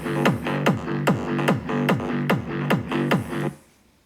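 A synth bass line built in FL Studio for big room, acid or trance, with reverb and sidechain, pumps in steady repeated hits about every half second, each note swelling and ducking, then cuts off near the end.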